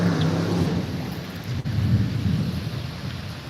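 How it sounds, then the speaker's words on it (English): Distant rumbling thunder from a storm front passing over a flooded riverwalk, a low continuous roll with a steady wash of rain noise, no voices. "Wow, listen to that. Yeah, the storm front's already passed by."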